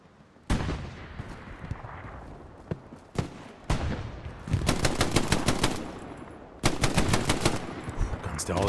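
Machine gun fire in a World War II-style online shooter, with several long rapid bursts plus single heavy shots, loud and close over constant battle noise.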